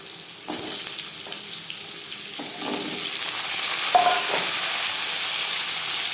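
Jute leaf stems frying with cumin seeds and bay leaf in refined oil in a pan, giving a steady, close hiss of sizzling broken by occasional soft stirring clinks.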